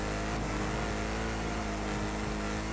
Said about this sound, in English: This car sounds beautiful.